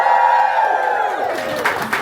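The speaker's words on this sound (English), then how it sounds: "So please, this is the moment that I need you to cheer the most, okay?" A large stadium crowd at Wembley cheers loudly for the FA Cup Final, a sustained roar of voices and whoops that fills the space throughout.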